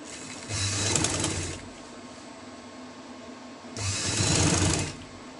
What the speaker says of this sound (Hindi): और सिलाई पे हम सिलाई चलाएंगे।